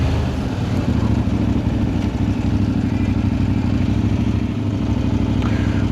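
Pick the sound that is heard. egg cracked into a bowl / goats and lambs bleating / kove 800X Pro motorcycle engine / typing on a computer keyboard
kove 800X Pro motorcycle engine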